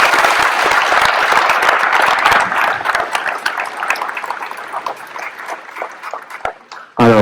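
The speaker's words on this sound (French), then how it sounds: "Et je crois qu'on peut les applaudir." An audience at a welcome and blessing event for camper-van travellers breaks into loud, sustained applause that thins into scattered claps before a brief final burst, with no one speaking over it.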